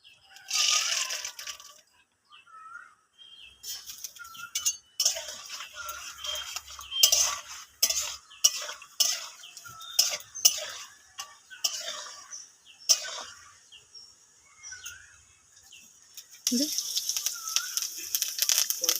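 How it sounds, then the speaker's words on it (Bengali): Raw peanuts fry in a pan, with sharp clicks and taps of the nuts and a utensil scattered throughout, rising into a steady sizzle near the end; a voice talks over parts of it. "বাদামগুলো ভেজে নেব।"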